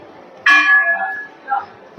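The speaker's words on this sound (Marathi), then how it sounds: "इथं आहे मोठी घंटा" A large temple bell at a Shani temple in Chittorgarh is struck once with a bright metallic clang that rings and fades, followed by a softer second ring a second later.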